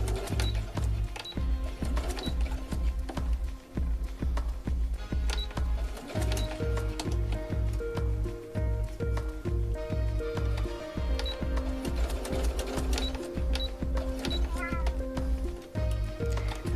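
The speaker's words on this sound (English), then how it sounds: "I'm pivoting that needle again, leaving the needle down, lifting the foot and twisting the fabric to try and get that contour." Domestic sewing machine stitching fabric for doll socks: a steady, rapid mechanical chatter runs close and loud throughout, with brief pauses as the needle pivots and the fabric turns.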